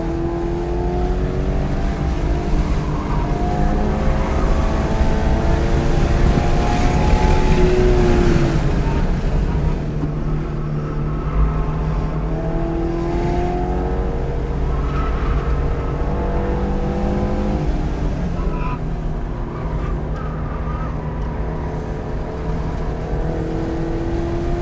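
A Ford Mustang runs hard around a race track, heard from inside the car as a loud, steady engine drone whose pitch climbs and falls through the gears, with voices now and then under the noise.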